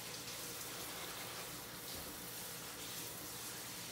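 Cold tap water running into a kitchen sink over freshly cooked spaghetti: a faint, steady gushing hiss without pause, with no voices.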